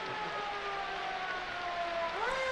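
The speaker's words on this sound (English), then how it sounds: "apologies for the sirens outside of my house" A wailing siren sounds outside a house, its steady tone holding and then sliding upward near the end, moderately loud and continuous with no talk.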